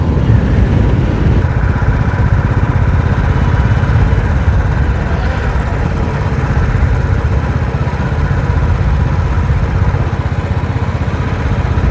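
Motorcycle carrying three riders on a road through Punjab, its engine droning loudly and steadily at close range for the whole stretch, with no talk.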